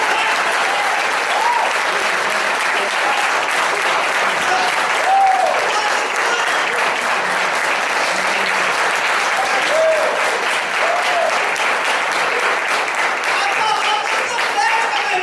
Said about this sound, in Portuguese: levanta as suas mãos assim e dê um aplauso ao Senhor